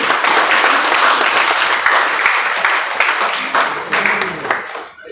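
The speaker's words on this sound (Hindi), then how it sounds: "ताली में कटौती नहीं करिए।" Sustained audience applause at a Premchand Jayanti college program in Buxar welcoming guests, dense continuous clapping from a large hall that rises in bursts and tapers off at the end.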